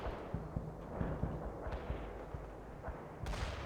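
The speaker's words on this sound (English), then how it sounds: "Artillery firing." Artillery fires in a World in Conflict battle, a series of dull, deep booms and thumps spread across a few seconds, with one sharper blast near the end. A steady rumble of combat runs underneath.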